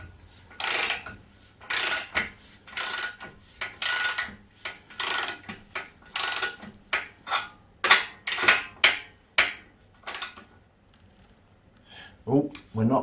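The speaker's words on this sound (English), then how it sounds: "let's nip up that large nut" Ratchet cranking a large nut on CruiseMaster trailer suspension, loud close bursts of rapid clicking repeated about a dozen times in an uneven rhythm, with a short pause near the end.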